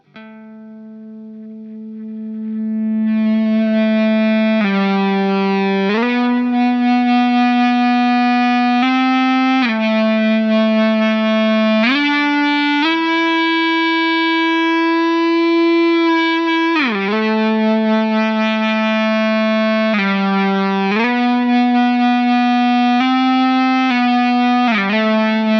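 Electric guitar notes sustained endlessly by an EBow in standard mode, smooth swelling tones with no picking attack, sliding between pitches in a slow, continuous melody.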